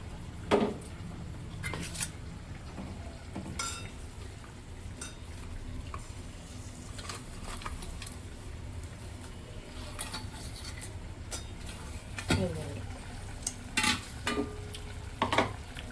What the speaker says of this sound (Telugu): ఇప్పుడు ఎండుచేప ముక్కలు వేయాలి